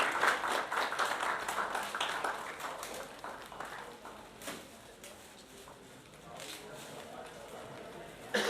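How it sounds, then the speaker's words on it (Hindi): Audience claps at a brochure launch, a dense round of applause strongest at the start, thinning into scattered claps with faint voices and a few bird coos underneath. "एक साथ में सबकी तालियां।"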